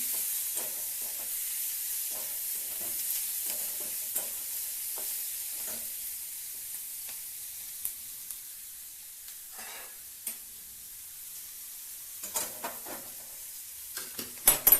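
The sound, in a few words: onions frying and being stirred in a pan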